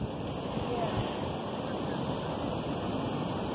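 Surf and wind on St. Augustine Beach: a continuous broadband wash of breaking waves mixed with gusty wind buffeting the microphone, steady and fairly loud throughout.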